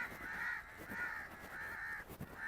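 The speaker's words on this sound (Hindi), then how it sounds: "यहाँ पे जी कौवे जो हैं भी कोई चीज़ देख ली, अभी पता नहीं देखा क्या है, शोर मचाने लग गया।" Crows raising an alarm in open farmland near mustard fields, giving a run of harsh, repeated caws in regular bursts, fairly close and clear over a quiet background.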